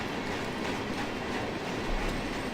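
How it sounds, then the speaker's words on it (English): Rumbling train from the Run8 train simulator game, a steady broadband rolling roar that holds close and even throughout with no talk. "I don't know where that train spawned"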